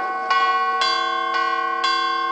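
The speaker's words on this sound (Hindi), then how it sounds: "बड़ी घंटा" A large temple bell rings four times at an even pace, each clear metallic strike leaving a long ringing hum that carries into the next, with no other sound.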